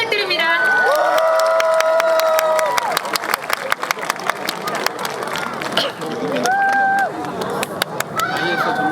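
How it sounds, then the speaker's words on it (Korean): A live audience cheers and applauds for a six-member K-pop girl group at an outdoor radio public broadcast, loud crowd roar with shouts and whistles, clapping running steadily throughout. "박수 부탁드립니다."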